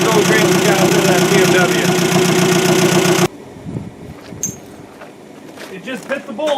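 A 2002 Sunfire 2.2 SFI engine running without oil, loud and droning close by, then cutting out abruptly halfway through, leaving quieter background rustles and a voice.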